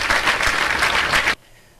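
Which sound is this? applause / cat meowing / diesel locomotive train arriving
applause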